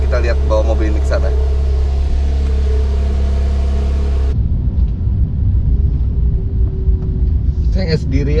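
A Porsche 911 GTS engine drones steadily with a deep low rumble while the car is driven, the tone shifting partway through as the cabin sound changes, with talking heard over it.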